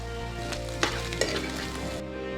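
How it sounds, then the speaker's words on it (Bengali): Three beaten eggs sizzle steadily in hot oil in a home kitchen, a close, continuous crackle with a couple of sharp stirring clicks and no talk. "তেলের মধ্যে দিয়ে ভেজে নেব।"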